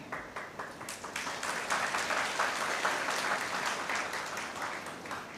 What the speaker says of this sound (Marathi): तुम्ही टाळ्या वाजवल्या म्हणून तुमचे आभार मानते